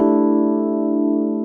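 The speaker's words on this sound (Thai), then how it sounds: "เราลองมาใส่คอรัสนิดนึงกันนะครับ" Sustained electric piano chord from a Studiologic Numa Compact SE stage keyboard using its EP Mark 1 Rhodes-style voice with a light chorus effect, holding steady and loud for a moment with no voices.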